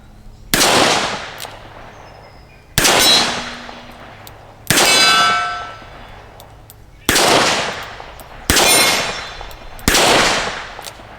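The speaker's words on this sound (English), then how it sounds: "We'll go back and shoot a little bit more of the 38 special" Six sharp revolver shots from a Smith and Wesson 686+ firing .38 Special rounds outdoors, each a loud crack with a ringing decay, spaced about two seconds apart.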